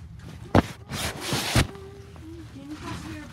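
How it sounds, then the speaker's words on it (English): A zipper being pulled, heard as two sharp, close rasping bursts about a second apart amid quieter rustling, with faint voice-like tones following. "I heard a zipping noise, so I'm going to check here first"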